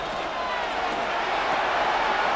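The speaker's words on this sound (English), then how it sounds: "The noise very loud from the crowd." Stadium crowd in the Madden NFL 26 video game, a dense, constant wash of roaring voices, loud and diffuse with no clear individual calls.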